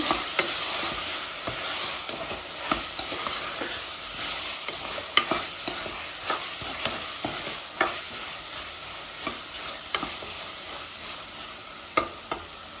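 Pulao with turmeric bubbles in a pot, a constant hissing simmer with regular soft ticks and pops from bursting bubbles and occasional stirring clinks, close and fairly quiet.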